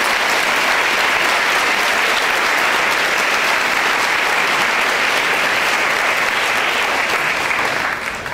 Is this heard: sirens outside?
no